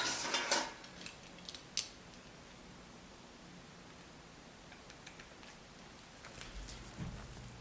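Scissors snip thread on a 7x7 hair closure: a couple of quiet, crisp cuts near the start, then a long hushed stretch before a few more faint snips at the end.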